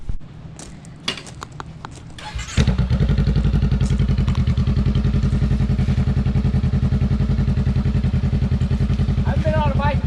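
A Honda motorcycle engine starts up after a few light knocks and clatter, then idles loud and close with a steady, rapid throbbing pulse that continues to the end.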